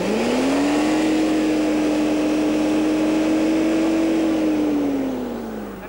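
A 1990 Lexus LS engine revs up to 6,000 RPM, a smooth, steady hum that rises, holds level for several seconds, then winds back down, loud and close with no talking.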